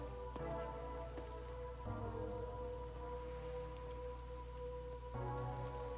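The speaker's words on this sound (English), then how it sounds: "It's a gentle rain protecting us." Steady rainfall in the video game Raincode+, an even wash of falling drops that continues throughout, with sustained musical tones layered beneath it and no voices.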